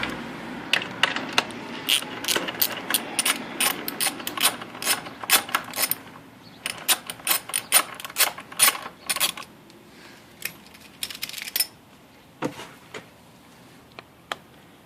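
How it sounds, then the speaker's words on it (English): Removing the airbox from a 1971 Honda CL350 motorcycle brings a rapid string of sharp metallic clicks and rattles, close and irregular. They thin out into scattered knocks toward the end. "I'll get this airbox off"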